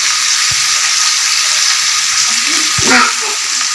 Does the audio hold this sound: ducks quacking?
no